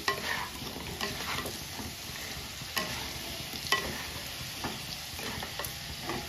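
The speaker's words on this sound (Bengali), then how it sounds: "প্রায় আলুগুলো ভাজা হয়েই এসেছে, এবার আমি তুলে নিচ্ছি।" Potatoes fry in hot oil for a spicy aloo dum, giving a continuous close sizzle. Repeated stirring scrapes and light clinks of utensil against pan come through on top.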